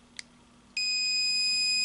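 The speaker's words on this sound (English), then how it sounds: "it beeps to show you that the circuit's complete." Multimeter continuity beep when the red and black leads touch: a steady high electronic tone starts abruptly after a brief click and holds unbroken, fairly loud and alone.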